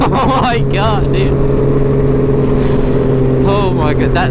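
A 300 WHP high-power motorcycle with no quick shifter revs and accelerates with a loud, steady engine drone and rising harmonics, while people talk and exclaim excitedly over it.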